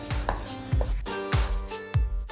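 A knife chops beefsteak tomatoes on a cutting board in four firm, evenly spaced strokes, each one a close, solid thud. Nobody speaks.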